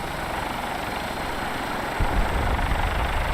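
Fallout 4 airship, the Prydwen, passing overhead with a jet-fighter-like roar, a steady loud rumbling drone that swells into a heavier low rush partway through.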